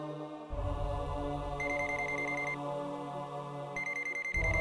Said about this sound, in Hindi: अरे भाई, ये अपने जगन का फोन है भाई